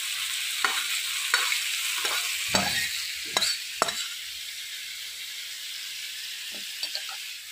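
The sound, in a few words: vegetables being stirred and fried in a pan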